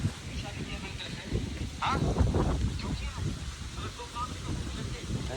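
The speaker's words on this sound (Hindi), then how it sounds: "बहुत तेज हवा चल रही है, अनबिलीवेबल हवा चल रही है।" Strong wind on the banks of the Ganges buffets the microphone in a steady rumbling roar, gusting harder midway, with muffled voices faintly underneath.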